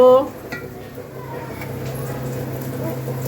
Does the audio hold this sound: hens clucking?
no